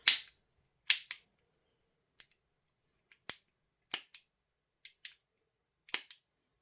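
Trigger of a Sig Spear LT gas blowback airsoft rifle being worked, a series of about nine sharp, isolated mechanical clicks spaced irregularly, close and crisp against silence.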